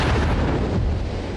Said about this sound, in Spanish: el cortocircuito produce una tremenda explosión